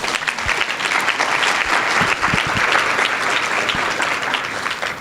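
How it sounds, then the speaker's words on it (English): An audience at an organization's presentation gives a round of applause, dense and steady at close range for about five seconds, with a few louder individual claps. "So if we could give them a round of applause."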